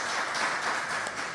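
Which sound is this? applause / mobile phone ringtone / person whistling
applause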